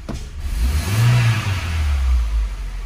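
A car engine revs hard under heavy acceleration with its drive belt no longer squealing, a loud, sustained roar that swells and holds, close by and with no voices.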